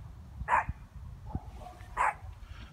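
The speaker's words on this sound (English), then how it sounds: "Killer dog alert. Do you even see him? There he is. He's a big dog." A big dog barks twice, loud and fairly close, with a short gap between, over low rumbling background noise outdoors.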